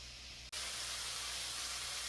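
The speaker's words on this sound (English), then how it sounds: "You can hear it sizzling." Steady bright hiss of chicken sizzling in a hot pan, close and continuous after a brief cut, with a low hum underneath.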